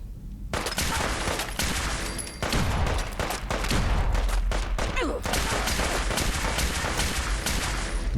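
Sustained gunfire fills a firefight in the video game Fallout 4: Far Harbor, with dense overlapping shots, booms and rapid bursts forming a loud, continuous barrage.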